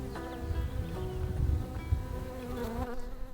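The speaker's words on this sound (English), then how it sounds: "Just take a second and just listen to the bees." Bees buzzing outdoors in a remote, quiet landscape, a continuous droning hum with shifting pitches as insects move near and away, no talking.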